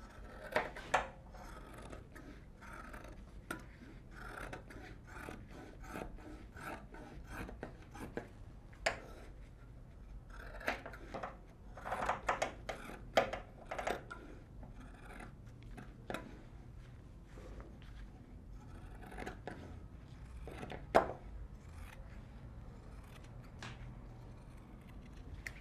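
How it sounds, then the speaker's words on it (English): Leather being cut with scissors or a knife for a handmade snap wristband, a string of soft close snips and rasping rubs at an irregular pace, fairly quiet, with no talking. "And we cut the leather."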